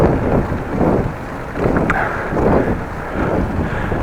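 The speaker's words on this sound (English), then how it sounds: "And you're riding a little bit in the wind." Steady wind buffets the microphone while cycling outdoors on a Dutch bike, a continuous low rumbling roar that swells and fades in gusts and carries no talk.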